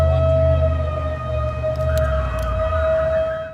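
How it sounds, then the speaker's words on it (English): Emergency sirens wailing during a tsunami evacuation in Brookings, Oregon, a loud, sustained steady tone with a low rumble beneath and a few faint clicks, no voices. "from one moment to the next, a calm day turned to sirens"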